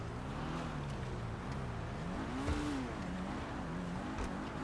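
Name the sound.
car engine revving in GTA 5 video game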